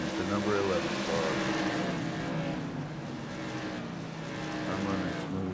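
Whelen Modified race cars in an iRacing sim race, engines droning steadily as several cars battle closely for the top three positions, a continuous loud roar under a commentator's voice.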